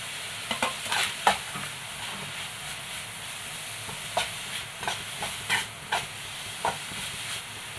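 Grated carrot fries in a pan, a soft continuous sizzle broken by repeated scraping stir strokes at an uneven rhythm, close and fairly quiet, with no voices.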